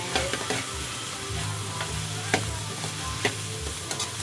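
Food frying in a pan with no shrimp, pepper about to go in, is stirred with scattered utensil scrapes and clicks over a steady close sizzle, no talking.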